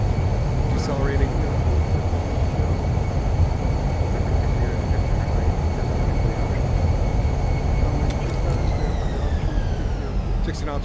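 Airliner thrust reversers roaring on a gusty landing in Microsoft Flight Simulator, a steady loud broadband rush with whining engine tones throughout, pitch sagging as the jet decelerates, with voices talking over it.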